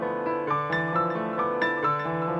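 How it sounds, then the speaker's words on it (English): Piano playing Midna's Lament from Zelda with an echoey delay effect, clear notes repeating in soft rhythmic echoes that give the phrase a pulsing feel, played alone. "We get that slight echoey delay sound, and it kind of gives it almost like a rhythm."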